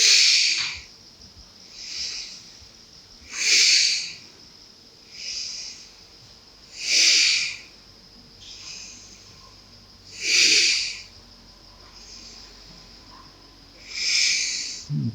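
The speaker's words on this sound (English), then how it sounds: "we need to keep exhaling and pumping that out" Forceful breaths during a pumping breathing exercise, about seven strong hissing exhalations evenly spaced a couple of seconds apart, close and loud with quiet gaps between.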